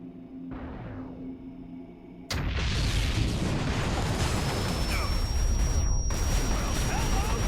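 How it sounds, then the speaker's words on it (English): Airstrike explosions called in by the Titan war machine in XCOM, a sudden heavy boom that opens into a sustained roaring, rumbling blast wash with a thin whistling tone riding above it, loud and close. "Now he can command its airstrikes just like an agent."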